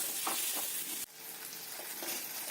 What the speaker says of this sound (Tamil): மிளகாத்தூள் எண்ணெயில நல்லா வதங்கணும்